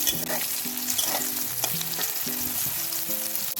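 Brinjal slices sizzle and crackle in hot oil while making neem begun, a continuous frying hiss with a faint tonal hum underneath.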